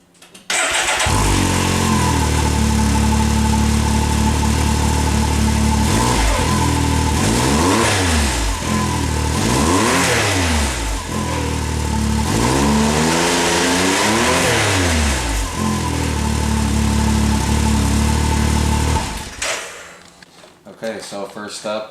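A Can-Am X3 Evo side-by-side engine on its stock catted down pipe and stock muffler starts up, idles, then revs in several loud, close blips before shutting off near the end.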